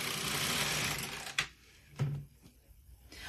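Carriage of a domestic knitting machine sliding across the needle bed, knitting without weights: a broad rushing swish for over a second, then sharp clacks and a second shorter pass at the row ends, close and clear.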